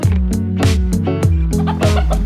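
Several chickens in a holding pen cluck close by in a steady run of short, repeated calls, loud and busy with no voices.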